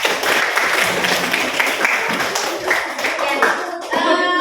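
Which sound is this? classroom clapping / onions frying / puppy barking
classroom clapping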